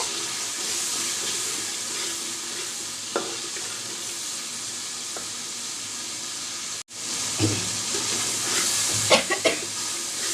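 Tomato pieces stirred into a sizzling spice masala in a pan for a sea roisha fish recipe, giving a steady close fry hiss with scraping stir clicks that swell after a brief pause near the end.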